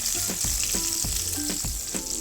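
Hot oil with spice tempering sizzles and crackles steadily in a pan, with a few light knocks of a spoon and no talking.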